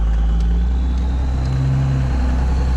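A two-wheel-drive automatic truck with new bigger tires and a huge intake spins its tires while accelerating, producing a steady, close engine drone with a rising tone and no talking.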